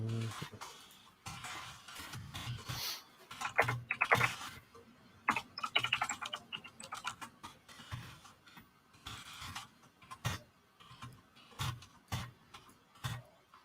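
Typing on a computer keyboard in irregular bursts of soft clicking keystrokes, close and quiet, with brief pauses between flurries and no talking.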